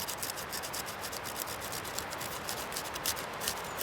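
Birch bark being gently scraped into a dust pile for fire lighting outdoors: a quiet, continuous dry rasping scrape with a fast, even rhythm, close and alone.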